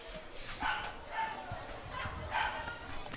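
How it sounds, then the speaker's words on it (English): A dog barks three times at a baseball game, the sharp yips spaced evenly and heard at a distance through the open crowd noise around the ballpark. "Is that a dog?"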